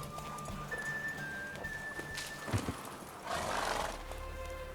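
A mare in the video game The Witcher 3 neighs and gallops, with quick hoofbeats under a sharp whinny, music and game ambience behind it.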